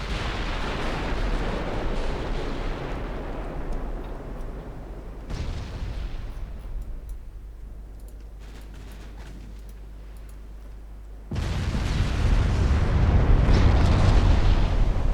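Naval gunfire in the warship game Ultimate Admiral Dreadnoughts, heavy rumbling booms that swell and fade, a quieter lull with a low hum, then another loud roaring blast that holds to the end, with no speech.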